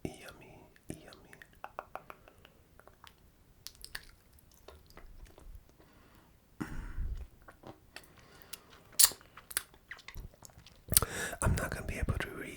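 Close, wet mouth sounds of someone eating a lollipop: sucking, clicking and soft squishes, with occasional louder smacks, mixed with quiet whispering.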